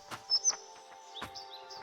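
Chirping bird calls from the video game Bye Sweet Carole, a few short bright tweets and trills scattered over a faint steady background tone, fairly quiet.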